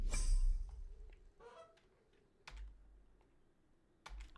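A computer keyboard gives a few scattered, distinct clicks and key taps against near silence, with a louder burst at the very start and irregular single presses after it.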